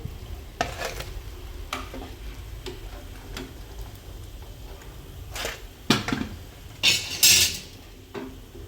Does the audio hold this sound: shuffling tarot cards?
no